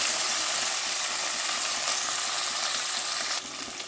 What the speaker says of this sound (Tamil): இப்போ நம்ம அரிஞ்சு வச்ச வெங்காயத்தையும் கருவேப்பிலையும் போட்டுடலாம். நல்லா வதங்கிட்டேன்.